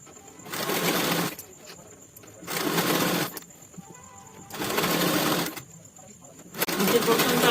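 Sewing machine running in repeated bursts of a second or so with short pauses between them, stitching a double-folded hem on a kaftan kurti.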